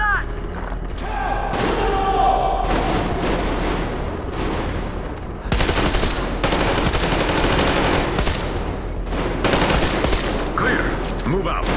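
Sustained automatic gunfire and rapid fusillades in the video game Metro Exodus, loud and dense throughout with bursts layered over each other and shouted voices mixed into the battle.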